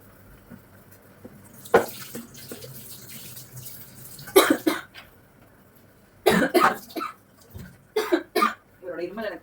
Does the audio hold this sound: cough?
yes